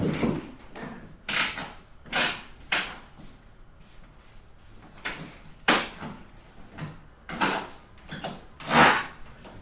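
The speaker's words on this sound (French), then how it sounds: "ça grince" A real wooden parquet floor creaks in a series of short, moderately loud groans and squeaks spaced about a second apart, with quiet room tone in between.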